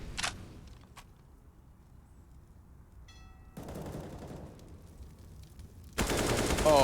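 Gunfire in the Counter-Strike video game at a professional IEM Summer 2021 grand-final match: a burst of shots near the start, then quiet, then louder bursts of rapid firing toward the end, with no talk.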